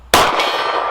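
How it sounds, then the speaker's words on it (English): A pistol round from an S&W M&P 2.0 Compact strikes a steel gong target, giving one loud, bright metallic clang that rings on and decays slowly through the rest of the moment. "Let's go back to the gong."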